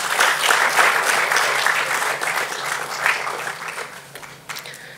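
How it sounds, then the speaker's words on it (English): A hall audience gives a sustained round of applause for the founders of Vianet World at a launch event, dense and steady at first, then gradually thinning and fading toward the end. "Please give a big round of applause for the amazing founders of Vianet."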